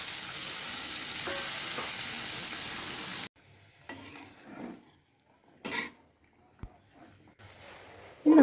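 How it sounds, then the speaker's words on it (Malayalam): Long beans fry in a pan with a loud, steady sizzle that suddenly stops, followed by a few short scraping clinks as a ladle stirs them. "എന്നിട്ട് നമുക്കതൊന്ന് തവി കൊണ്ട് മിക്സ് ചെയ്യാം."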